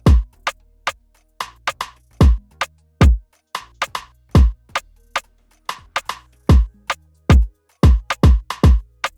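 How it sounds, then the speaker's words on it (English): Deep, punchy kick drum thumps in a syncopated pattern, booming and close, with clicky percussion hits between them and no voices. "So then next we got a kick"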